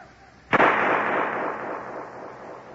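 A single sharp gunshot cracks out of near silence, loud and close, then trails into a long hissing echo that fades slowly, as in an old-time radio crime drama.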